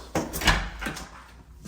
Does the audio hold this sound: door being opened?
yes